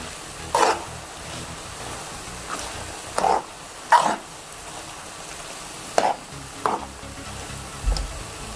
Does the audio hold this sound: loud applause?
no